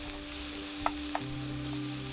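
Food frying in a frying pan on a camp stove gives a faint, steady sizzle with a couple of small pops, and nobody speaks.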